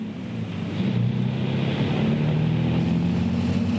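A car engine in the film The Projected Man rumbles loudly and continuously, its revs swelling slightly, with no talk over it.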